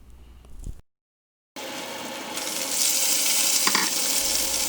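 Lamb chops sizzling in a cast iron pan with fresh rosemary, a steady bright frying hiss that grows louder after a short silent cut as the heat is turned up, with a few faint clinks.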